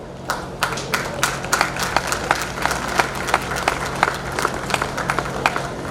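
Sustained clapping from an audience at an Ambedkar Jayanti event fills several seconds as honorees are called up, dense and lively with crisp claps scattered throughout.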